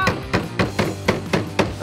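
A hammer drives nails into wood during a timed nail-hammering contest, with sharp, evenly spaced strikes landing roughly four times per second, loud and close.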